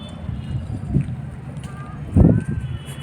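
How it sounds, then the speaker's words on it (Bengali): Strong wind gusting across a rooftop, rumbling buffets against the microphone that swell twice, alongside a faint voice. "প্রচণ্ড হাওয়া ছাদে।"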